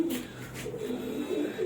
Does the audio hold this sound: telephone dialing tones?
no